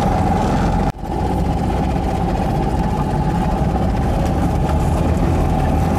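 The small engine of a Trojan 200 (Heinkel Kabine) bubble car runs steadily and close by, a buzzy drone with a constant tone and one brief dip near the start.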